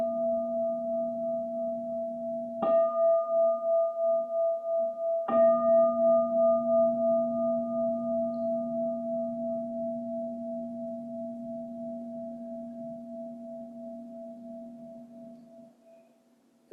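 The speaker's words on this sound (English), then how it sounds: "So when we start the meditation, I ring the bell 3 times." A meditation bell rings out clearly and alone. Two crisp strikes can be heard over the tone of an earlier ring, and each one blooms into a long, pure, sustained hum that fades slowly into silence.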